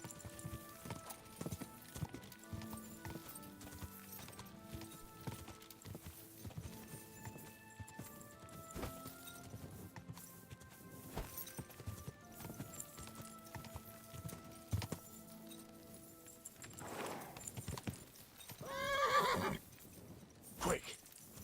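In Kingdom Come: Deliverance 2, a horse's hooves clip-clop in a steady walking rhythm, closing with a loud neigh near the end, while a quiet voice speaks at times underneath.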